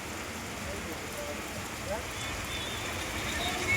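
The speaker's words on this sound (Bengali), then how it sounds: "বৈশালীতে বৃষ্টি হচ্ছে খুব জোরে" Heavy rain falling in Baishali, Kolkata, a dense, even wash of patter that fills the space and swells slightly toward the end.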